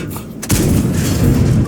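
A tank's cannon fires a single heavy shot in a tank video game, a sudden loud boom rising out of quieter engine rumble and then rolling on with sustained low-end rumble and debris noise.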